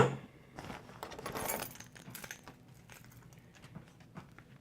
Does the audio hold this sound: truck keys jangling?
yes